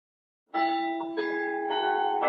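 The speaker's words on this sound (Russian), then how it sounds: "О, вот и часы звенят, кстати." Clock bells chiming in a video game: clear ringing tones that begin abruptly after a brief silence, followed by several successive overlapping strikes that sustain loud and bright.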